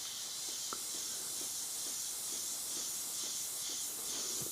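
A thin paint mix atomising through an airbrush gives a steady, close, continuous airy hiss throughout, with faint small ticks beneath it and no talking.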